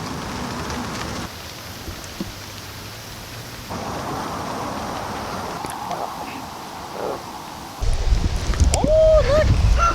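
Steady rain falls on a farm on harvest day in a semi-arid region, with rolling thunder rumbling underneath and a heavier, closer downpour surging near the end, while a voice speaks briefly.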